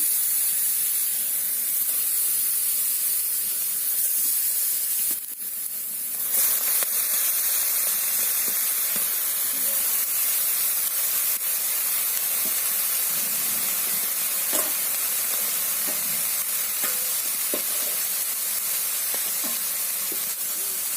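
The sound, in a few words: mourala fish wrapped in bottle gourd leaves frying in hot pan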